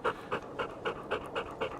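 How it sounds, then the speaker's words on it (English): Dogs pant in a steady, rhythmic series of quick breaths, about seven close bursts in under two seconds, heard up close on a quiet Northern California morning. "There's the doggies."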